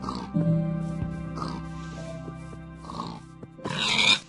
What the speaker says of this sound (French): il y a max de cochons ici